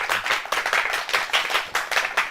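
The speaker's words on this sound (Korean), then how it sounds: "여러분 큰 박수 부탁드립니다." After a Seoul National University economics professor's lecture at a KBS radio special, the audience applauds in a warm, moderately loud round that swells and dips in gentle waves.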